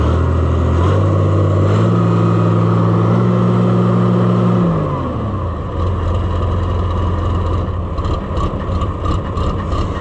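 An Oliver 1655 diesel tractor engine idles close and loud. Its pitch rises and wavers unevenly, then drops to a lower, rougher idle with an irregular stutter.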